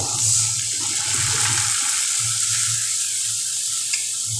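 Turmeric and chilli powder paste, soaked in a little water, sizzles and bubbles in a pan over low gas for a Bengali small-fish chorchori. It makes a continuous wet, hissing fry noise with no talking.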